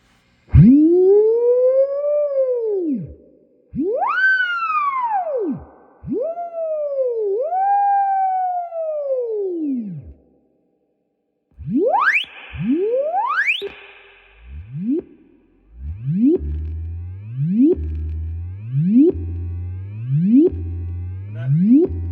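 Electronic tones from a signal generator sweep up and down through a Marshall DSL 201 guitar amplifier, long swooping glides like a siren, then faster repeated rising chirps, with reverb and no talking.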